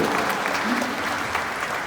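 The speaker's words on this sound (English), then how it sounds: "I heard somebody trying to clap for her, yeah, so please do it for her now" An audience claps for a speaker at a diabetes book launch, steady applause filling the room for about two seconds with no voices over it.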